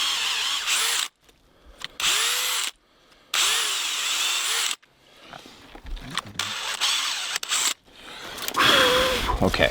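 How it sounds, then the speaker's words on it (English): A power drill bores a hole, loud and close, in bursts of whining rotation that stop and restart as the bit is pulled back out while still spinning; quieter handling noises fill the gaps. "I always pull out while I'm still drilling in to shed as much of the stuff that's inside the hole."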